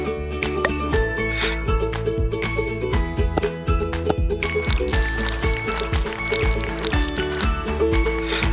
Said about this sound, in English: Don't forget to pour some olive oil.